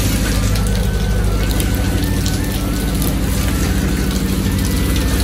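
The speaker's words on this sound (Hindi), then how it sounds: "होता रहा है बारिश" Steady rain pours down outdoors, a dense continuous hiss and patter that stays loud and even throughout.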